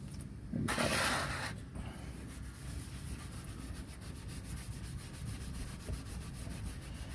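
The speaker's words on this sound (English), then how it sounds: "Gentlemen, start your polishing." A car's exhaust underbody is polished by hand in steady, close rubbing strokes, a soft continuous scrubbing with one louder burst near the start.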